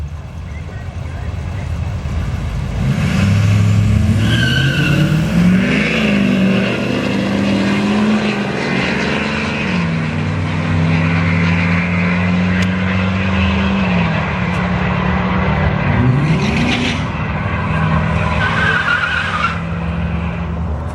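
A turbo diesel, heavy-duty, all-wheel-drive truck at a street-legal drag race night, its engine droning and rising over a continuous roar of crowd and track noise, with a voice talking over it throughout.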